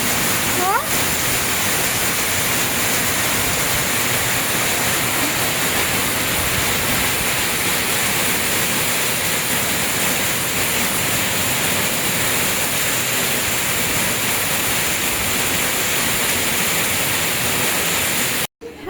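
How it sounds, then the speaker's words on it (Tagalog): Heavy rain pours down steadily in a dense, constant roar of broadband noise, with no break for the whole stretch until it cuts off at the end. "Lakas ng ulan eh!"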